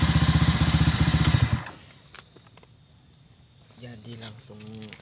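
Honda Vario 125 scooter with a CLD exhaust whose glasswool muffler packing is worn, giving a tinny tone: a loud, close engine roar for about a second and a half, then it cuts off and quiet talking follows.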